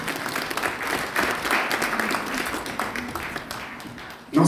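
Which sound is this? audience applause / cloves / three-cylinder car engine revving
audience applause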